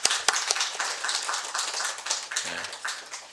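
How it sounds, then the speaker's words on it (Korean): A church congregation claps during a Sunday morning service, many hands together in a brisk, even round with a few sharp louder claps, moderately near and without talk over it. "박수 한번 치겠습니다."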